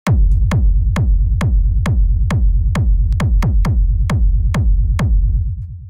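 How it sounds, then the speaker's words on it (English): A booming rumble kick drum for raw industrial techno, built from a punch layer, repeats in a steady four-on-the-floor pulse with a deep sustained low tail, loud and up front with no other sounds. "So the way this kick is made is it's a rumble kick."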